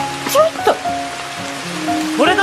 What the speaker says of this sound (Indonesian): Di tengah derasnya hujan yang mengguyur